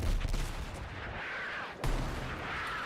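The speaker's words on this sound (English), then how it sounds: "I hate these mortars, by the way." Mortar fire in Battlefield: rumbling, booming impacts roll continuously with a sharp thud midway, dense and loud battlefield noise with no voices.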